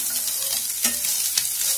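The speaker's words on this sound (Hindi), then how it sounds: "सबसे पहले सोयाबीन भून लेंगे।" Soybean chunks fry in a little oil in a hot wok, a steady broadband sizzle with a couple of sharp scrape-and-stir accents.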